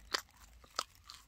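Crisp salt bread is bitten and chewed up close, giving about three sharp crunches spaced across a short moment against quiet background.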